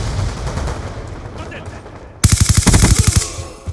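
Rapid automatic fire from an MSMC submachine gun in Call of Duty Black Ops 2, a sudden loud burst of about a dozen evenly spaced shots following a quieter stretch of game background noise.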